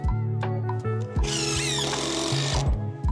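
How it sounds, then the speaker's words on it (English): Power drill boring a pilot hole into a pressure-treated dock board for a floating dock, a loud whining motor rising in pitch as the bit bites into the wood, with short starts and stops around it. "I always drill a pilot hole before installing the screws so that the board doesn't split."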